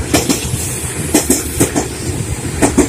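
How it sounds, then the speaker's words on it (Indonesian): A KRL commuter train on the Rangkasbitung line arrives at Maja station, rolling past close by with a steady rumble and rhythmic clattering of wheels over rail joints. "Kereta relasi Rangkas Bitung datang dari arah Citras, persiapan masuk stasiun Maja."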